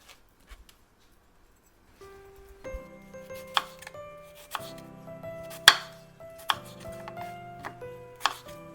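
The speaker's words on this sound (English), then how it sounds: "So cut these into 1 centimeter wedges." A knife cuts persimmons into wedges on a board, making a series of distinct sharp chops with uneven pauses between them. Soft background music plays under the cutting.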